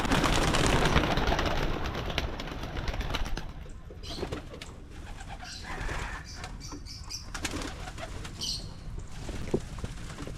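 Pigeons released from a loft burst out with a loud flurry of flapping wings that fades as they fly off, followed by scattered wingbeats, faint coos and distant background sounds.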